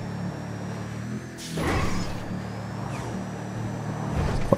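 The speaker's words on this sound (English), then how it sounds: "let's rev this up. Let's go. Such a beast. That gear change" Albany Buccaneer muscle car engine in GTA V, modeled on a Chevrolet Monte Carlo, rumbling low then surging loudly after a gear change, with a second rise near the end, close and without speech.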